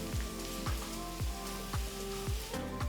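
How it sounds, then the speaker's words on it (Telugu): Thinly sliced onions sautéing in hot oil in a kadai for a soya chunks fry, a soft steady sizzle with a run of regular low knocks, likely the spatula striking the pan about twice a second. "ఉల్లిపాయల్ని ఒక 2-3 నిమిషాలు బాగా సాటే చేయాలి."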